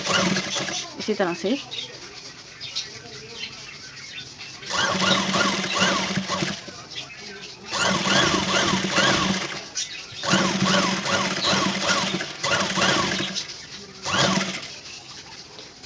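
A sewing machine stitches lace onto a choli in several bursts of fast, rhythmic needle clatter separated by short pauses, close and fairly loud, with someone speaking briefly between runs and birds cooing faintly in the background.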